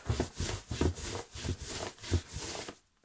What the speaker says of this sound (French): Le bruit que vous entendez, c'est l'herbe qui vient se coller le long du ballon.